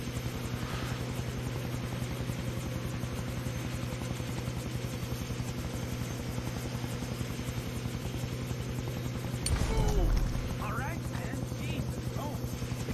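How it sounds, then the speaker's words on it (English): A helicopter in the Far Cry 3 video game throbs with a constant rotor pulse and engine drone throughout, steady and loud, with a brief louder burst near the end. "I can't let them put Ollie in the chopper."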